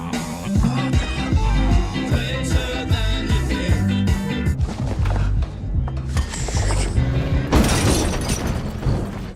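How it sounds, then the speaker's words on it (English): A car crash in a film, heard amid a dense cinematic mix with heavy low-frequency music, with crunching, shattering impacts and bursts of breaking debris toward the end. "which ends with him crashing his car"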